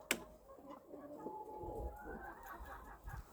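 A hen from a brood of chicks wanders into the wrong pen, giving soft, faint clucks and low murmuring calls in a quiet farmyard setting, with a sharp knock right at the start.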